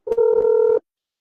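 Phone dialing tones: a short burst of keypad beeps running quickly together into a steady tone that cuts off cleanly.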